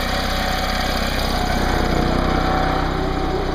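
An Onan 2.8 kW generator engine runs steadily at close range, a loud, even mechanical drone with a constant hum and no speech over it.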